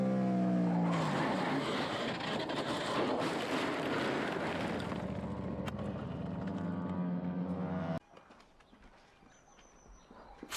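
A racing motorcycle, a Suzuki SV, screams hard into a track corner on the last lap, its high engine whine loud and sustained for about eight seconds before cutting abruptly to faint background noise.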